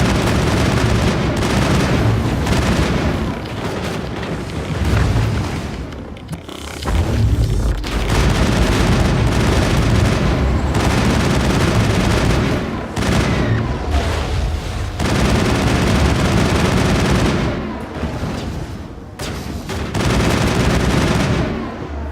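Sustained gunfire and booming blasts fill a firefight in the sci-fi game Mass Effect, loud and dense throughout with brief lulls near the middle and later, no talk over it.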